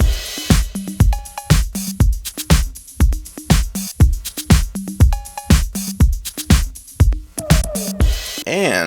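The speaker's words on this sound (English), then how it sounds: "So here's all the drum machines then all together, including the drum tracks." Several vintage drum machines and drum tracks playing together in a dense, steady groove of kicks, snares and bright hi-hats, with a short tonal blip recurring in the pattern and a rising swept tone at the very end.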